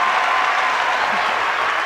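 A crowd at the 1994 Australia versus USA hockey bronze medal match applauds in a dense, sustained clatter of clapping. It is steady and fairly near, with faint voices mixed in.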